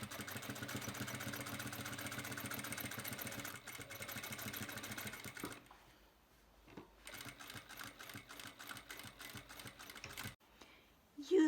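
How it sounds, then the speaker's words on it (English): A sewing machine stitches the shoulder seam of a summer dress, running with a fast, steady mechanical whirr and clatter that stops, then restarts in shorter bursts, close and quiet. "Using the machine foot as a guide, you then do the second stitch on the shoulder."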